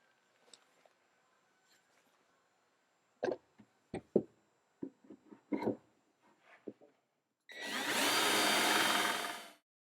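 A power drill boring a hole through wood stock guided by a template for mounting a switch: a few scattered knocks and handling clatter, then one short, loud burst of whining drill motor for about two seconds.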